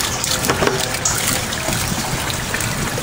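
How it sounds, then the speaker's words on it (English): Water flows from a brass tap through a Sawyer water filter at about six liters per minute, a steady trickling and splashing stream heard up close and alone. "a brass tap. And on that brass tap is the Sawyer water filter, which is doing 6 liters per minute."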